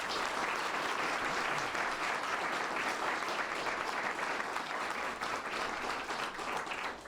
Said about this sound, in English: really we owe them a round of applause and a real salute for what they've done